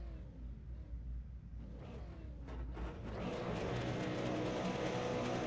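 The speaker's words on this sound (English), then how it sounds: "So revs are rising and the lights are on." V8 Supercar engines rev on the starting grid at the Nürburgring in an online racing video game, a rising, layered mechanical roar that grows louder and fuller toward the end with no talk over it.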